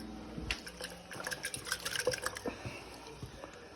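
Water splashes and trickles close by as it is poured into a crock pot, a short, uneven pour with small drips and gurgles, no speech.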